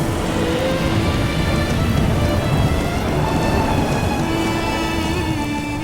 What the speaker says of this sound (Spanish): La lluvia cae cada 7 años, aseguran los habitantes locales.